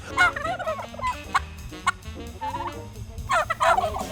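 A bronze heritage turkey gobbles on a pasture farm with a vineyard, several loud warbling gobbles in bursts close by, with other birds calling faintly.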